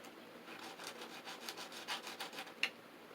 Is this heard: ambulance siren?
no